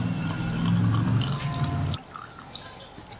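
Water pours into a cooking pot for a drink made with Horlicks, a short close splashing stream lasting about two seconds before going quiet, then a brief clunk at the end.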